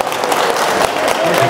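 Applause from an audience at an expo event, steady dense clapping filling the short stretch, with faint voices mixed in underneath.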